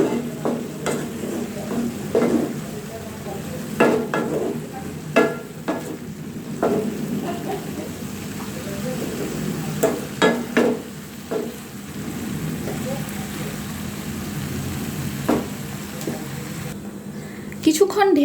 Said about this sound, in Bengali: হালকা একটু নাড়াচাড়া দিয়ে নিচ্ছি